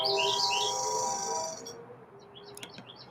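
Birds chirp and tweet outdoors in the early morning, a dense, bright twittering that fades after about a second and a half, leaving scattered faint calls over low traffic rumble.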